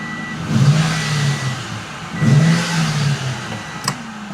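A Mustang Cobra with flood damage idles and revs as it backs up a short distance, with two brief rises of engine note over a steady low rumble, close by.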